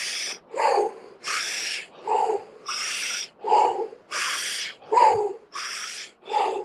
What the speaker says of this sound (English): Keep it going now, really deep breaths.